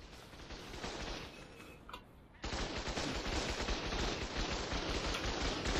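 Sustained automatic gunfire hammers away at turrets in ARK: Survival Evolved, loud and continuous, pausing briefly before resuming even harder.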